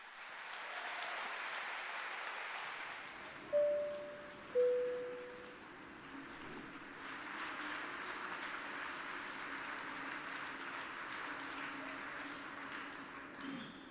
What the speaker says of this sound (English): please give a really big round of applause to Reed and Alina